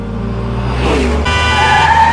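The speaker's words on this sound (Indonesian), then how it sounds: "mengemudikan mobil dengan kecepatan tinggi" A car driving at high speed, a loud close engine roar that builds and rises in pitch, with a brief tyre or wind rush in the middle.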